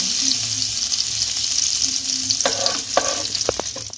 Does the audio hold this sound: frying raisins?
yes